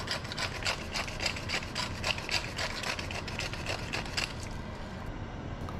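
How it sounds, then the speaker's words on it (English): A spoon scrapes and rubs meat across the bottom of a pot while cooking country style steak, a steady rhythmic grating that is loud and close with no talking, tapering off near the end. "use the spoon to rub the meat on the bottom of the pot to remove any fond"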